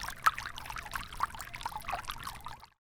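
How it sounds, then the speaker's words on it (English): Water pours into a bucket with a gurgling, splashing trickle that sounds close and fairly loud, then stops abruptly into silence. "Fill your bucket with water."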